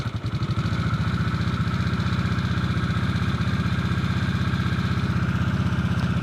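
A 2022 Harley-Davidson Nightster motorcycle engine idles steadily, a loud, close, even low throb with rapid regular pulses that holds for several seconds with no talk over it.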